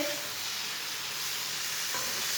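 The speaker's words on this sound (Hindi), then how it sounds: "5 मिनट तक अच्छी तरह भूनना, मीडियम आंच पर ऐसे ही चम्मच चलाते हुए भूनना" Chicken masala frying in a pan on medium heat while a spoon stirs it, a continuous close sizzle with soft scraping throughout.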